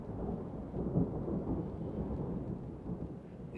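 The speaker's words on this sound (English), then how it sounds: "it's raining just a little bit" Light rain falls steadily on a walking route toward Le Puy-en-Velay, a soft, low, even patter with a dull rumble, fairly faint and with no voices.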